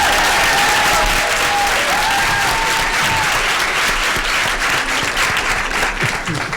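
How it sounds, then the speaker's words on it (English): A crowd at a vegan living event applauds the sign language interpreters, a loud, dense, steady round of clapping that fills the whole stretch, with a few faint voices mixed in. "And I feel like they deserve a round of applause."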